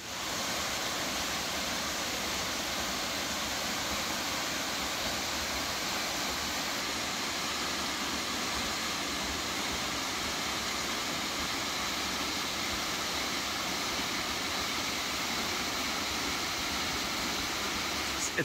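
Steady, full rush of a waterfall in North Carolina's Great Smoky Mountains, a dense broadband roar that stays constant and fairly close for the whole stretch, with no voices over it.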